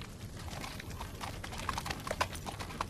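Horse hooves clip-clop in a steady, uneven rhythm at moderate distance, with sharper hoof strikes standing out toward the end over a low background rumble.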